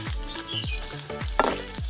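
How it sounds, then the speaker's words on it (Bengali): Pumpkin leaves coated in mustard paste fry in a pan, giving a steady close sizzle with repeated stirring scrapes and clatters at a regular pace, and no talking. "এইভাবে একটু কালচে করে ভেজে নিতে হবে"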